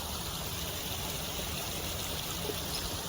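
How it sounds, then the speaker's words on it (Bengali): Water pours and splashes continuously in an outdoor fountain, a steady even rushing wash with no breaks or voices. "ঝর্ণাটা কি সুন্দর লাগছে না"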